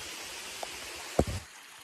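A creek flowing across a hiking trail in the foothills gives a steady, soft rushing wash throughout, with one brief knock-like splash near the middle.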